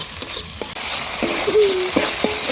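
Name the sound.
frying and stirring chicken masala with tomato and salt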